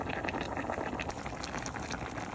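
Sinigang soup with pechay boils in a pot, a dense, steady bubbling and crackling that carries on without a break, close and moderately loud, with no talking.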